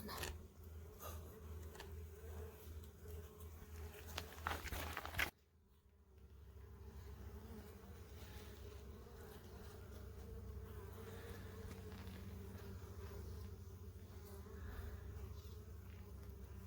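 Dense, steady buzzing of many honeybees close by on a hive frame, continuous throughout, with a brief louder rustle early on before settling into a constant hum.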